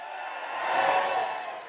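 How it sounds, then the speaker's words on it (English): Crowd cheering at a political rally in Arizona, a broad wash of voices that swells toward the middle and eases off slightly, fairly distant and steady, with no clear speech above it. "I think we got a fired up crowd here today"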